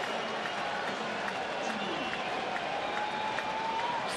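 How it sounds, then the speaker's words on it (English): Opening Day crowd at a Cincinnati baseball stadium roars and applauds steadily for a curtain call after a go-ahead home run, a broad sustained cheer with scattered whistles and a broadcast voice over it. "Crowd still wanting the curtain call by Frazier."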